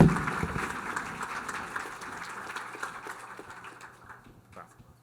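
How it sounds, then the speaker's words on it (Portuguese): Applause for Rogério Bacelar during a notary-profession talk program, a dense burst of clapping at the start that thins and fades over several seconds, with scattered claps trailing off near the end. "Uma salva de palmas para o Rogério Bacelar."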